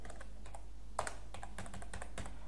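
Keys clatter on a computer keyboard in irregular bursts while a password is entered and confirmed on an online application form, close and clear with no talking.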